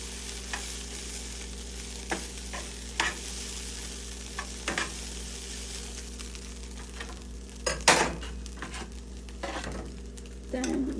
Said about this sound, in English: and you just give that a mix